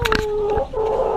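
Chickens in a backyard bird habitat in France give close, clear rooster-like calls with short clucks and a drawn-out tonal call, heard alone and loud.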